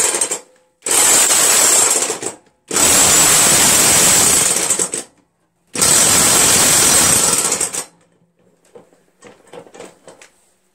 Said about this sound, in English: I've got my Harbor Freight half-inch electric impact with a 15/16 on there